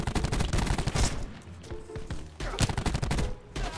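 Gunfire in Black Ops 4, dense bursts of rapid shots that fill most of the stretch, easing briefly in the middle before another volley erupts.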